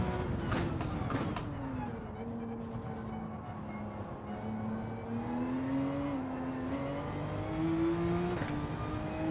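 Porsche GT3 race car engine in Gran Turismo 7, a steady droning hum with pitch rising and falling as the car accelerates and eases off, continuous throughout.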